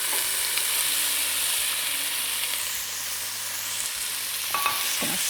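Halved cherry tomatoes sizzle with garlic in a hot pan, a steady close frying hiss broken by scraping stirs and a few clicks of the utensil near the end, with no talking.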